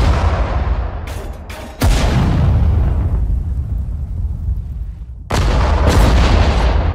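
Heavy artillery fire booms in Sudden Strike 4 during a British desert campaign battle in Africa, with two loud broadband blasts several seconds apart, each followed by a sustained rumbling roar, preceded by a few sharp bursts.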